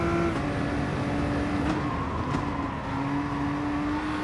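Nissan GT-R GT3 race car in GT Sport, its engine droning loudly and steadily with a brief pitch shift as it drops gears into a corner at Kyoto Yamagiwa.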